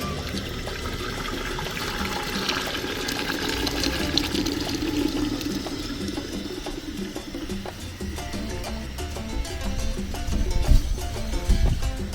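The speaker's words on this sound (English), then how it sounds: "Water." Water poured steadily for a Zobo (sobolo) tea recipe, a continuous close splashing flow that stays fairly loud and even throughout, with no talk.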